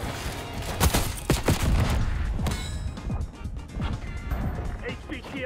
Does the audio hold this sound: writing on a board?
no